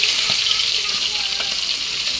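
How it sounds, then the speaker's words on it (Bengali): Silver carp pieces frying in hot oil, a steady dense sizzle with faint crackles and occasional light spatter pops, close and continuous throughout. "সিলভার কাপ মাছ তো একটু এপিট ওপিট করে লাল লাল করে ভেজে নেব।"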